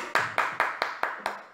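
Six sharp hand claps in a steady, even rhythm, close and clear with a short decay after each.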